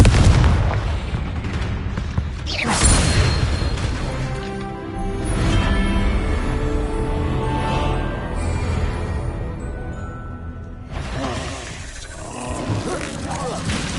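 Confringo spell explosions in the Hogwarts Legacy video game, heavy booming blasts and roaring rumbles that swell and fade across the scene, with a voice speaking over the loud fighting.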